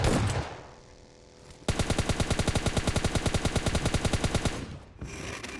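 Gunfire in PUBG Mobile Lite: a loud automatic weapon fires a long, rapid, evenly spaced burst of about three seconds, with quieter game ambience before and after.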